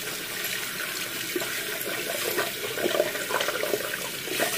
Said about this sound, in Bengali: হাত ধোয়া দেখাতে হচ্ছে